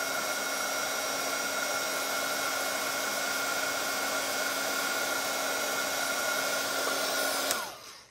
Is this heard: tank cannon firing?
no